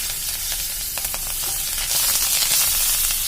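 Chopped green chillies and curry leaves sizzle and fry steadily in a hot pan for prawn achar, a dense crackling hiss that swells slightly louder toward the end, with no talk.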